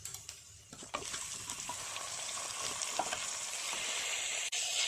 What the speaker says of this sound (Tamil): நம்ம இந்த தக்காளியை வதக்கி விட்டுடலாம்